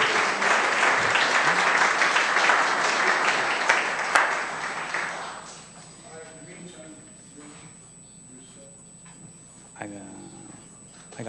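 Applause from an audience at a municipal board meeting for garden walk award winners, sustained and dense for about five seconds, then fading into scattered claps and quiet room noise with brief talk.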